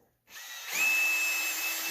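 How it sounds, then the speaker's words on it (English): A power drill starts up after a brief silence, spinning a red Scotch-Brite abrasive pad on a 2004 Dodge Cummins part, with a rising whine that settles into a steady high-pitched buzz and rubbing hiss. "So, your red Scotch-Brite on a drill."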